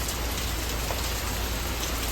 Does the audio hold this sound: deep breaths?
no